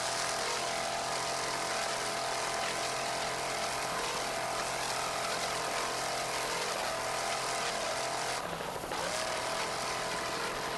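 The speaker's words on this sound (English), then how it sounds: "That 650 horsepower Mercury engine sounds excellent as Wide Open makes its way through the lake." A 650 horsepower Mercury engine drives the racing powerboat Wide Open across a lake during a 1993 offshore challenge, a steady, loud, continuous drone that dips briefly near the end and then roars back.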